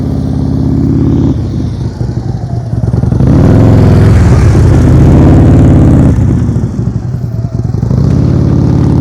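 A motorcycle on a slow-speed riding practice course, its engine loud and close, rising and falling in steady revs throughout.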